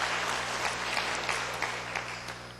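A congregation at a Sunday afternoon evangelism testimony service bursts into continuous, dense applause, a brief rush of many hands over a low hum.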